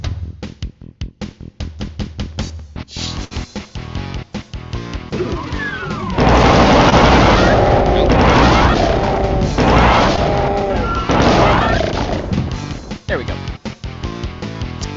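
Rapid plasma gun fire in the 1993 shooter DOOM: a fast train of close, sharp shots, then a loud sustained stretch of crashing hits and monster noise, with someone talking over it.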